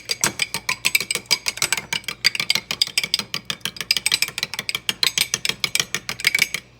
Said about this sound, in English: I'm just going to give these a little whisk here and get them incorporated.